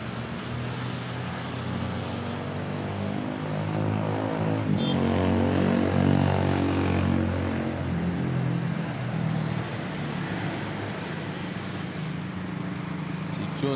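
A Cathay Pacific airliner at Manila Airport, a loud steady engine roar that swells in the middle and then eases, heard from fairly close throughout.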